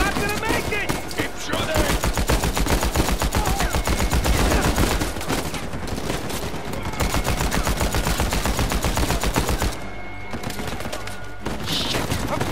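Heavy sustained gunfire in Uncharted 4 during a firefight, dense overlapping shots and bursts pounding continuously with only short lulls, loud and close.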